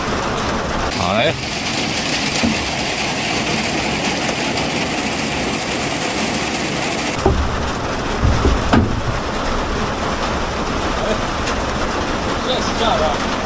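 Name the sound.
heavy rainstorm on an armoured vehicle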